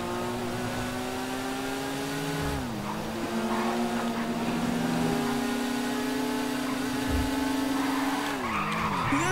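A car in a video game drifts with a sustained tire skid, the engine droning steadily and its pitch dipping and climbing as the slide continues, loud and continuous throughout.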